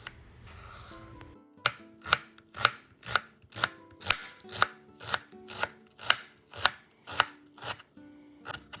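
A kitchen knife chops through a whole onion on a cutting board, about fourteen steady, evenly spaced sharp thunks close up, with no talking.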